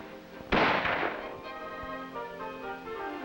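An M14 rifle fires on a 25-meter military training range, giving one loud, sharp report that rings out and decays over about half a second, heard at moderate distance over a faint background murmur.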